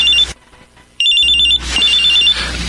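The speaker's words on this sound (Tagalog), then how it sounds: "May tumatawag sa cellphone ko." A cellphone rings with an incoming call, loud electronic trilling bursts broken by short gaps, heard up close in a radio drama.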